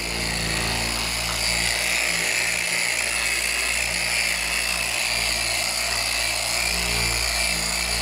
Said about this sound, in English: I'm using a black pad and a very, very fine polish, number 3.